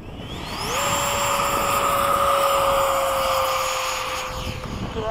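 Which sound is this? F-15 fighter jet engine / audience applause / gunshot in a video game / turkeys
F-15 fighter jet engine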